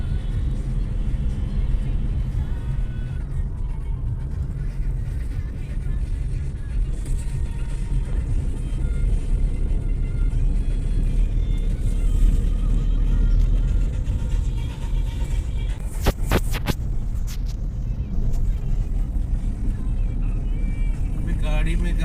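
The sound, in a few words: car driving, heard from inside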